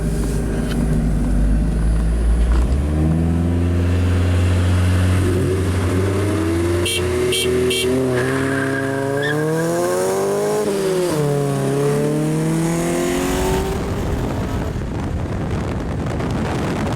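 A turbocharged Mazda Miata accelerates hard while racing a Honda CRX. The engine drones and climbs in pitch through repeated rising sweeps, close to the microphone, with heavy wind buffeting throughout.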